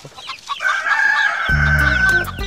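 A rooster crows once, fairly close, a rising then sustained call lasting over a second amid faint farmyard clucking, with no talk.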